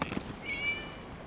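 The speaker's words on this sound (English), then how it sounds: "It was just a cat." In Genshin Impact, a cat gives a single short, clear meow near the start of a quiet moment, close and moderately loud over low background ambience.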